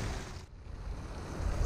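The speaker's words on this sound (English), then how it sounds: "Drain number two, looks like someone's bath water coming out." Outflow from a drain pipe running into a river, a steady, close rushing wash of water with a rough, noisy texture and a faint dip midway.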